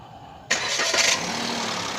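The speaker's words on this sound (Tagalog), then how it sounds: "Oh, subukan natin paandarin." A 2023–2024 Toyota Wigo small car engine cranks and catches at once, then settles into a steady close idle with no talking.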